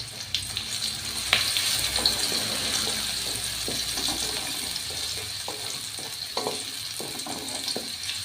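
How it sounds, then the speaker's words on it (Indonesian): Shallots and garlic sautéing in hot oil in a wok over medium heat: a steady close sizzle and hiss runs throughout, broken by scraping stirs and small clatters as the aromatics are turned. "kita tumis bawang merah, bawang putih hingga harum"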